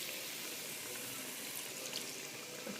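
A quarter cup of water poured into a pan of cooking prawn ghassi, a steady soft rushing pour throughout, fairly quiet and close.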